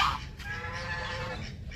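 Several geese at a pond in the Howrah Shibpur botanical garden give honking calls that sound alarmed, loud and close, repeating over steady outdoor background noise.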